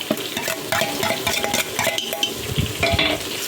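Ginger garlic paste fries in a small amount of oil for biryani while a utensil stirs and scrapes it steadily, giving a soft, continuous sizzle close by with no voices.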